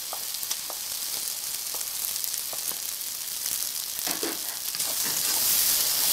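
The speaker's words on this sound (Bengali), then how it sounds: "এবার দিয়ে দিচ্ছি কড়াইশুটি যেটা বেটে রেখেছিলাম সেটা" Ground green pea paste hits a hot pan over a medium flame and sizzles, a dense, steady hiss heard close up with faint utensil clicks, swelling slightly louder toward the end.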